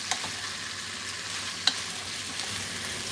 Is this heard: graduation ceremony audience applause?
no